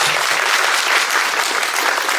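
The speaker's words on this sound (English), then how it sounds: "Give a round of applause for yourself for being part of this green mission." Applause from an audience at a tree plantation programme, dense, loud, steady clapping filling the whole moment without pause.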